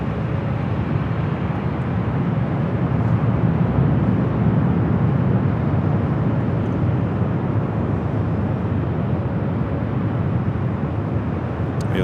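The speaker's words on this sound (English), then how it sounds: "The United next up, starting its taxi once again," A United heavy jet airliner taxis at Los Angeles International Airport, its engines a steady, broad, low roar that holds evenly throughout.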